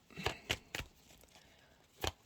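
Tarot cards being shuffled nearby, heard as four short, soft riffling bursts spaced irregularly over quiet background.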